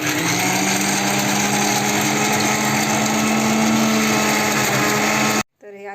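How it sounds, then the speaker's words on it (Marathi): A kitchen mixer grinder whirs with a loud, continuous high whine for several seconds, then cuts off abruptly, after which a voice briefly speaks. "आजी खूप जपून करते मिक्सरवरती. आता बटन चालू होईल."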